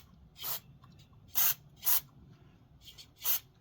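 Aerosol brake cleaner sprays in five short, sharp hissing bursts, blasting dirt out of threads on a dump trailer's hydraulic fitting, each burst loud and close with quiet gaps between.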